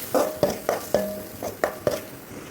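A spoon scrapes and stirs ground masala paste in a pan for fish curry, with sharp repeated strokes at an uneven rhythm and a faint sizzle underneath.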